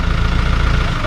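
A vehicle engine runs hard with a loud, steady low rumble and rhythmic throb while people push to help it along, with voices in the background.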